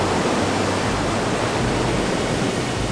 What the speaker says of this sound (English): cannot get enough of this ocean waves